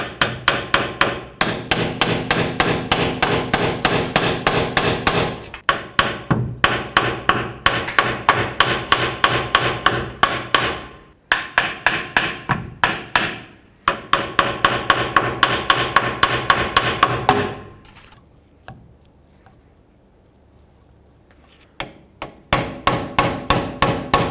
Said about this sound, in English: going to take a little hammer and just try to work at it a little bit